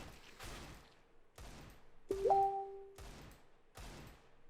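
Gunfire in a CS:GO aim-practice deathmatch against bots, with a series of evenly spaced single shots, about five, at moderate level, one overlapped by a brief tonal game sound.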